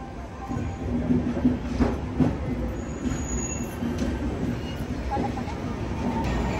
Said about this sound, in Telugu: ట్రైన్ కాదు షంటింగ్ లోకో.